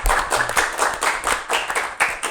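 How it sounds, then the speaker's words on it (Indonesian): An audience claps at a comedy performance, with a quick run of close hand claps that forms a brisk, uneven burst of applause throughout. "Sekali lagi tepuk tangan untuk ketiganya."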